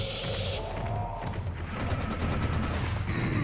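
Rapid enemy gunfire in the first-person shooter Serious Sam HD: The Second Encounter, loud bursts and booms layered with machine-gun rattles and electronic game tones, continuous across the moment.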